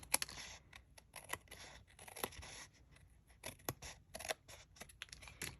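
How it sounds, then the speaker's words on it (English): Scissors snip through paper die cuts in quick, crisp cuts, close and fairly quiet, with irregular clusters of snips and soft handling noises between them. "we're going to just snip this off"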